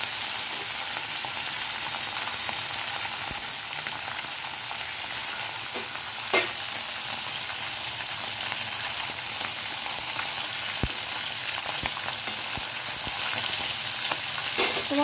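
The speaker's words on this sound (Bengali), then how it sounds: "সমস্ত মাছ আমি ভেজে তুলে নেব।" Kajori fish fry in hot oil in a wok with a steady, loud, dense sizzle throughout, broken by a few faint clinks and stirring knocks.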